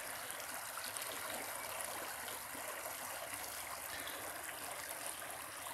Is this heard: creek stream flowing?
yes